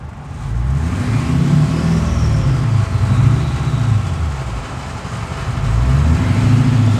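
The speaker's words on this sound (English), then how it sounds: "Rev it up a little bit." Duramax diesel V8 in a 2011 Chevrolet 3500HD pickup with heavy upgrades, revved in several deep, rumbling swells that rise and fall, close and loud with no talking.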